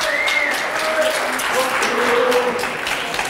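Studio audience applauding on a French television show, a dense steady wash of clapping throughout with some whoops and voices rising above it.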